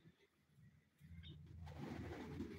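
Pigeons or doves queue up close by and coo softly, their low murmuring calls rising over faint background noise.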